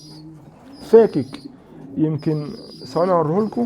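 A male pigeon coos in short, repeated throaty bursts close by, while someone talks over and between the calls.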